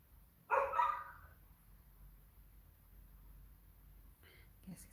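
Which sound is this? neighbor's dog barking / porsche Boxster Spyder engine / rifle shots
neighbor's dog barking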